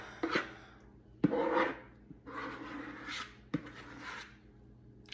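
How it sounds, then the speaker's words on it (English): A spoon scrapes dressing out of a bowl in four rough, rasping strokes, close and fairly loud, with short pauses between them. "I've gotten this out pretty well with a spoon, a little noisily."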